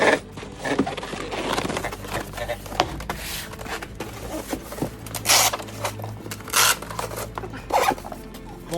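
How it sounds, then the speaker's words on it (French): An Iron Studios Saint Seiya Dragon Shiryu figure is unpacked from a large, well-protected cardboard box, with close rustling, scraping and sharp zip-like tearing bursts of tape and packing. "on va déballer tout ça ensemble"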